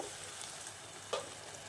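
Hot water is poured into a simmering watermelon rind curry in the pan, producing a brief, steady hissing sizzle with a small splash near the middle.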